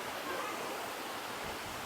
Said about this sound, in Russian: вроде бы мы подошли к основному водопаду